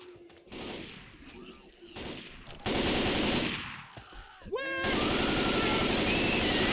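Loud bursts of automatic gunfire in the zombie shooter Left 4 Dead 2 hammer on almost without pause, growing denser and more sustained toward the end.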